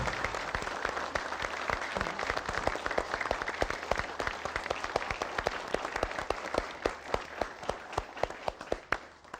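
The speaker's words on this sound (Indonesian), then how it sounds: "Hadirin tepuk tangan buat kuis humor 4 kawan." A studio audience at a comedy quiz show claps along in a steady, rhythmic beat, sharp regular claps repeating at an even pace throughout at moderate volume.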